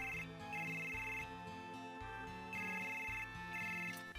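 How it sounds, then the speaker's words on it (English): Ringtone in Final Fantasy VII, a looping melodic electronic tune with bright repeating tones over a bouncing bass pattern, steady and fairly loud with no talking. "Oh, I'm getting a phone call."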